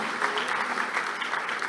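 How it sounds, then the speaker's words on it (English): A seminar audience at a CMA USA convention claps as a guest is called onto the stage. The dense, continuous applause is close and lively and lasts through the whole short stretch. "Everybody, round of applause, come on."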